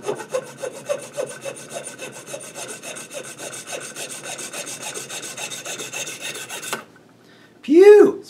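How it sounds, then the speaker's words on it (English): Guitar nut being filed and sawn down to size in a workshop, with a long run of rapid rhythmic rasping strokes, close and fairly loud. The strokes stop abruptly and a short loud exhale follows. "Our nut is cut down to roughly the right size."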